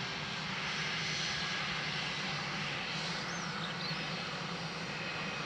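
A fixed-wing airplane arriving at Dublin Airport roars continuously and loudly, a dense steady engine rumble with no voices over it.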